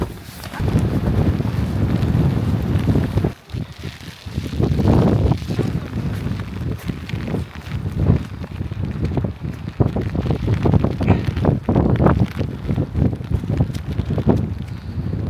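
Strong, rainy gusts buffet the microphone in a heavy, continuous roar, briefly dropping off before blasting again; loud and close throughout.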